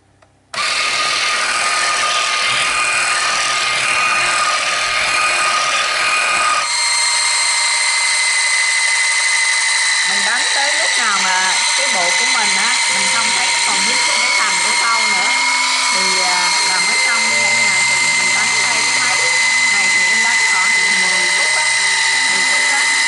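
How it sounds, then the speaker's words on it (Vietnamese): An electric mixer beats chocolate bread dough, starting after a brief quiet and then holding a loud, steady motor whine with grinding, ratcheting texture as the beaters work through the dough. "dùng máy mình đánh"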